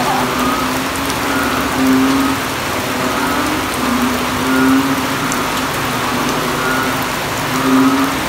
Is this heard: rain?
yes